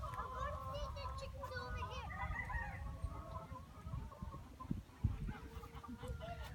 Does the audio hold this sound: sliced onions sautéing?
no